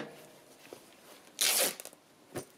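Scissors slice through dress fabric while making ephemera holders in old books, giving a short crisp cut followed by a couple of small snips and a fainter later cut, close and quiet.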